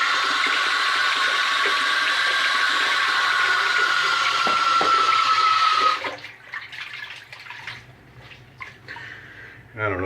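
Tap water runs steadily and loudly for about six seconds while rinsing a straight razor during a shave, then stops, leaving faint drips and small handling sounds.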